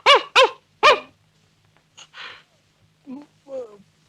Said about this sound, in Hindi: अंदर से कुत्ता भौंक रहा था।